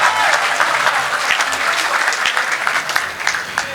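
Dense, sustained applause from a large college crowd cheering poets at a poetry recital, loud and continuous throughout, with a voice faintly underneath.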